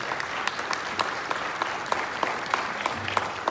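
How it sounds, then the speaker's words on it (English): A crowd at the opening of a new library in Gresham, Oregon, claps in steady, lively applause, a dense patter of many hands, moderately loud and continuous throughout. "Give a big round of applause."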